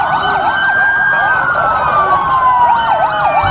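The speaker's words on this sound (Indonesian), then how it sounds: "Ini mobil ambulan." A wailing ambulance-style siren sweeps up and down continuously, bright and electronic like a toy, with no talking over it.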